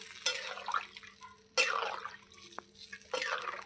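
Water pours in short bursts into a pot of fish curry with taro and potato, splashing and trickling loudly in three separate pours with quieter drips between, no voices.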